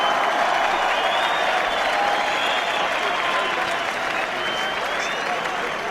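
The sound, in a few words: crowd applause for boxer Kevin Mitchell at Upton Park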